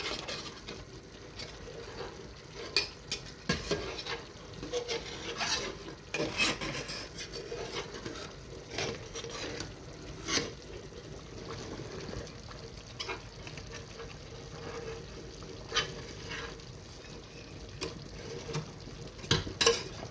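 Metal scraping and rubbing inside a cooking pot as a small fallen spoon is fished out, with repeated rasping strokes and occasional clinks over steady kitchen background noise, no talk.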